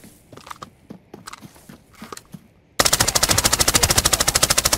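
Sustained automatic gunfire from a video game erupts loud and rapid after a stretch of quieter clicks and footsteps, firing in an even burst to the end.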